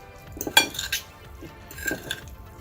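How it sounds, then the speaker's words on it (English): Samyang hot chicken ramen noodles being stirred with sauce in a pot: soft clinks and scrapes of a utensil against cookware, a couple of sharper knocks early on, faint and close, with no speech. "So just mix that in."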